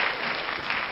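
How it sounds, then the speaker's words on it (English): A short burst of steady applause from a crowd, clapping dense and even for about a second with no voices on top. "So big applause to Josh"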